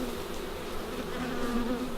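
Honey bees buzzing at a beehive, a dense steady swarm hum close to the microphone that continues unbroken with no voices.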